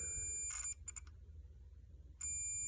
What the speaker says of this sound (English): if I turn on the key, you get the beep.